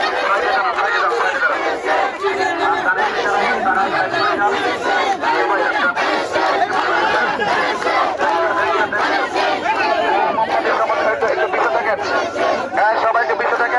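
A large political procession crowd chants slogans in a street in Bangladesh, a dense wall of many voices shouting in rhythmic waves without pause, loud and close throughout.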